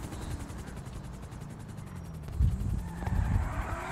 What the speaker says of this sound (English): You're really gonna use a helicopter?